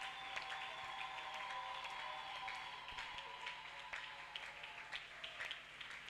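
Congregation applauding steadily through a church celebration service, a dense, continuous wash of clapping with sustained musical tones beneath it, fairly distant and even throughout.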